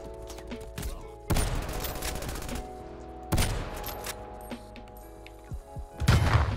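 Swiss K31 sniper rifle shots in Call of Duty Cold War: three loud, spaced single blasts, each followed by a short echoing tail, over quieter game ambience with a few smaller clicks, with no speech.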